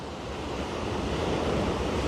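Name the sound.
sea waves breaking under Margate Pier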